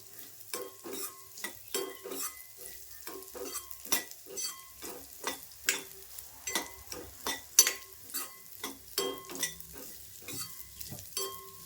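Rice roasting in ghee in a pan while a spoon stirs it in irregular scraping strokes, with soft sizzling beneath, quiet and close, and no voices.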